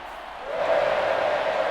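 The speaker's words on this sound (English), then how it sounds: "And the home crowd applauding." A home crowd in the Madden 24 football video game applauds after a preseason game, a broad wash of clapping and cheering that swells and then holds steady for a brief moment.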